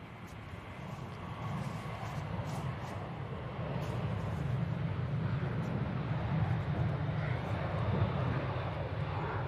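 A Ryanair Boeing 737-800 taking off at Manchester Airport, heard from a distance as a broad low jet engine roar that builds steadily and holds, with faint background sounds and no clear talking.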